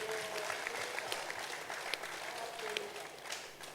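Audience applause fills a hall at a bank's annual general meeting, steady dense clapping throughout with a faint voice underneath, fairly quiet and distant.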